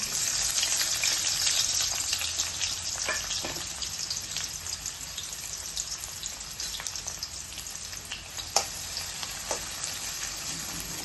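Chopped onion fries with cumin seeds in hot oil for kanda pohe, a continuous crackling hiss that is loudest at first, with a few sharper pops and stirring clicks throughout.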